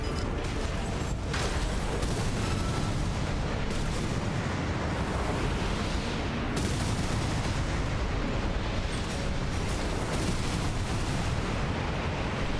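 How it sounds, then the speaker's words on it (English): Dense barrage of missile fire and explosions in the mech combat game Armored Core VI, a continuous loud roar of blasts and booms with no break across the whole stretch. "All these missiles."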